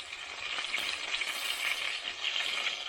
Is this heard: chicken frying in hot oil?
yes